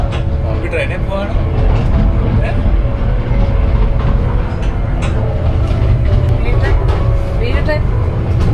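Interior of a moving train in the UK, a loud continuous rumble of wheels and carriage with steady rattling throughout, a voice talking over the noise.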